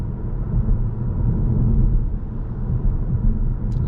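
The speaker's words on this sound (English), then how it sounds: "drive on the highway just to hear the noise when we're driving fully electric" A 2021 Škoda Octavia iV cruising on the highway in fully electric mode, heard from inside as a steady low rumble of road and tire noise with a faint airy wash, no engine note.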